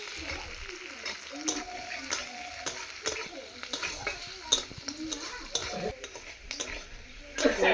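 A spatula scrapes and clinks in a pan while peas, cashews and raisins are stir-fried with garam masala for fried rice. Faint sizzling sits beneath irregular, fairly close stirring knocks and scrapes.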